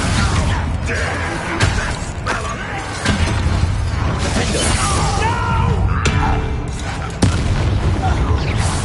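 Repeated Confringo blasting-curse explosions in a Harry Potter video game, loud booming bursts and crashes over dense game music and effects, with a voice shouting the spell's name between blasts.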